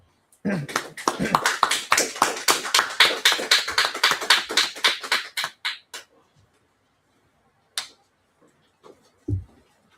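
A small audience claps together in a steady, even rhythm of about two dozen sharp claps over several seconds. Then it falls quiet, and a few isolated taps or knocks follow.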